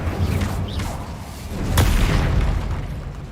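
A fire spell is cast in the Hogwarts Legacy video game, giving a loud whooshing burst and boom over dense, rumbling game-combat noise, with a sharp crack at mid-clip and no speech.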